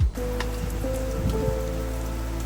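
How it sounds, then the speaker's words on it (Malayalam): Steady monsoon rain hisses continuously over a low, constant engine hum on a road in the Idukki hills, Kerala. "മഴയാണല്ലോ."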